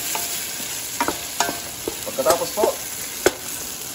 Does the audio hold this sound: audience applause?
no